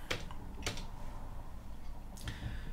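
A computer keyboard typed on at a desk: a few quick, soft clicking bursts of keystrokes, spaced out over steady quiet background noise.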